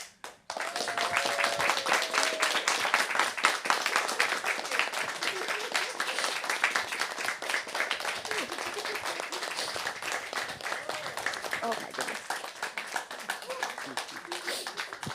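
An audience in Cambridge applauds the Digital Navigator team with loud, sustained clapping that starts abruptly and holds steady, a few voices and cheers faintly mixed in.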